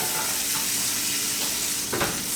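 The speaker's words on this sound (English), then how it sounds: "Sizzling." Food sizzling and frying in a pan, a steady loud hiss that fills the whole clip, with faint scraping from stirring and no talk.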